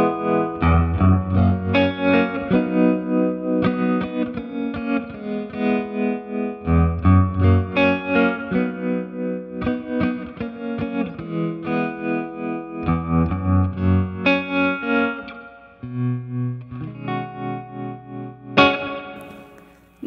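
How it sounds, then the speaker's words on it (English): Electric guitar riffs through a transistor tape delay set at 123 milliseconds, dense distorted chordal phrases with chorus-like doubling and echo, played steadily and loud for about twenty seconds, ending in a brighter strum. "delaying it slightly with a transistor tape delay set at 123 milliseconds"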